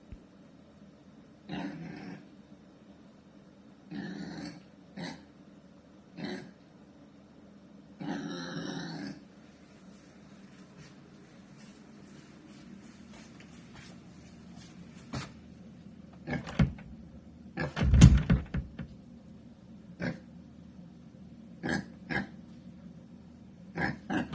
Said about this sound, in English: What a cutie to be knocking on your front door.